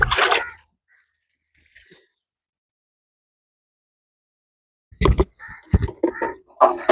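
Homemade natural liquid manure is poured onto garden plants, about one and a half litres per plant. A short splashing pour is followed by a long silence, then a closer cluster of uneven liquid splashes.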